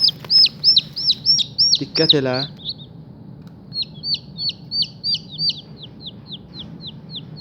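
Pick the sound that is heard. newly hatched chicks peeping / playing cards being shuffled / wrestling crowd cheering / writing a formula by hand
newly hatched chicks peeping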